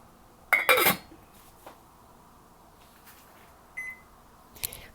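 A lid set onto a pot of rice with a loud metallic clatter, followed by soft knocks and a short electronic beep from a kitchen timer being set, close in a quiet kitchen.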